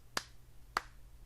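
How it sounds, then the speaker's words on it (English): Two isolated, sharp claps from an audience member during a live podcast taping, spaced well apart and crisp against an otherwise quiet room. "I heard 2 claps."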